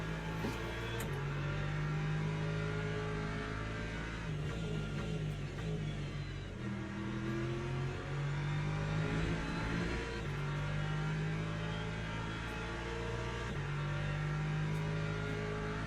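An LMGT3 race car in Le Mans Ultimate at Interlagos, its engine droning and revving continuously with rising and falling pitch through gear changes, steady and fairly loud with no talk.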